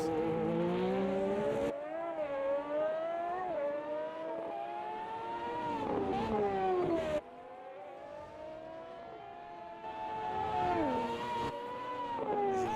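Formula One cars at the 1988 Monaco Grand Prix, including a Ford-engined Lola Larrousse, scream past in waves. The engines wail and shift pitch through gear changes, loud and near, with brief dips between passing cars.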